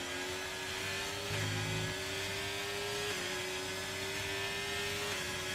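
F1 race car engines in the video game F1 23 at the Saudi Arabia Grand Prix, a loud, steady high-pitched whine with layered tones that shift slightly as cars chase each other, continuous throughout.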